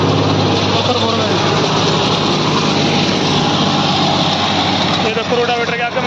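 John Deere 5210 tractor engine running steadily under load while driving a 7-foot Landforce rotavator, a loud continuous close drone with a voice talking over it.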